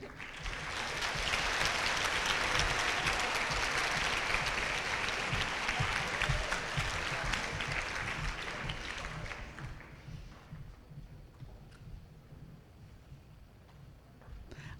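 Audience at a seventh grade school awards ceremony breaks into sustained applause, a dense roomful of clapping that holds steady for about nine seconds, then fades into quieter room noise with scattered claps.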